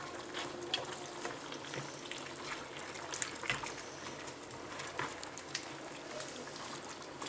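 Thai green curry being stirred in a pot as ingredients go in, a soft continuous wet simmering and bubbling with faint spoon scrapes, close and fairly quiet, with no talking.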